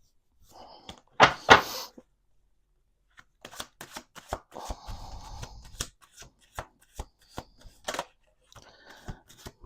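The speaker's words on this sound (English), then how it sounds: "Let's do 1 more shuffle." A deck of cards being shuffled close up: a loud riffle burst, then a run of softer taps, slides and squaring knocks as the cards are handled and settled, with no talking.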